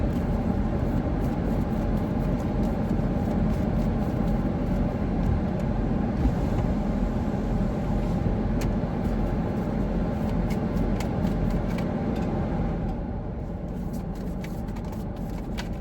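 A parked car idles with its air conditioning running, giving a steady, even engine and blower hum close by with no talk.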